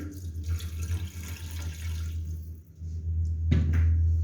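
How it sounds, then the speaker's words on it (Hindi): Water pours in a steady stream into a cooking pot of matar pulao masala with soft splashing, dips briefly, then returns as a fuller, heavier flow. "अब इसमें थोड़ा सा पानी ऐड करके 1 कप पानी में ऐड करूंगी।"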